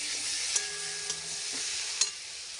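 Rohu fish fat fries in oil with a continuous, bright hiss, broken by a few soft knocks and clicks of utensils, and no voices over it.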